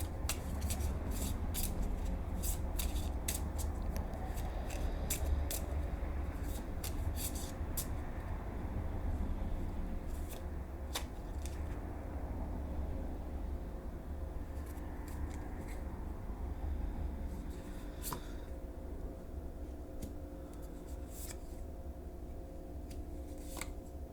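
Lenormand cards are handled, gathered and laid out for a tarot reading, a soft continuous papery shuffling with scattered light taps and slides over a steady low background hum.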